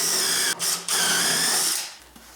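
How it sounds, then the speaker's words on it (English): A steady high-pitched whine of a power sander running close up on wood, with two brief dropouts early on before it winds down near the end. "And more sanding."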